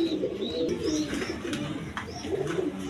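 Pigeons coo repeatedly at a pigeon sale, soft throaty calls overlapping in a loose rhythm against a busy market murmur, near and clear with a few higher chirps.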